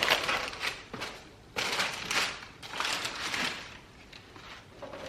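Crinkly tissue paper printed with Travis Scott branding being rustled and crushed inside a sneaker box, a continuous close, soft crackling with several louder crumpling bursts.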